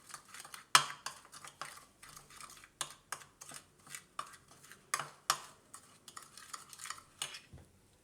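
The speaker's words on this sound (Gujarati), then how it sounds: "તો આપણે આ સિંગદાણા આ રીતે તેલમાં શેકી લીધા છે" Peanuts roasting in oil are stirred with a metal spoon, a quick irregular series of sharp clinks and scrapes against the pan over a faint sizzle, close and fairly quiet.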